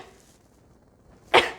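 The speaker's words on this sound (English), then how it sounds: "A bit of a sneeze over here." A single short, bright sneeze bursts out near the end after a stretch of near silence, close and fairly loud.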